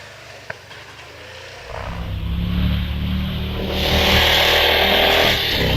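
A single-seater Austin 7 racing car on the Prescott hill climb, its small engine droning steadily and building as it climbs, the note rising and growing louder toward the end, heard without talk.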